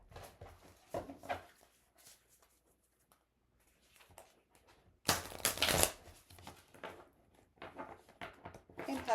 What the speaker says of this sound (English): I'm having so much trouble lately shuffling these cards.